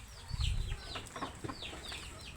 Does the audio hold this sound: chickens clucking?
yes